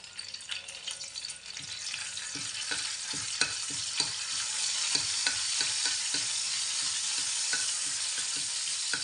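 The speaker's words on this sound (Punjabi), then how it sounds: "ਹੁਣ ਆਪਾਂ ਦੋ ਕੜੀ ਪੱਤੇ ਲੈ ਲਏ ਇਹਨਾਂ ਨੂੰ ਆਪਾਂ ਹਲਕਾ ਜਿਹਾ ਫਰਾਈ ਕਰ ਲੈਨੇ ਆ" Curry leaves frying in hot oil give a steady crackling sizzle, punctuated by a series of sharp spoon taps and scrapes as they are stirred in the pan; close and moderately loud, with no talking.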